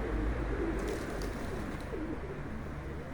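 Pigeons coo softly in a loft, low repeated burbling calls layered over a steady background murmur, fairly close and continuous.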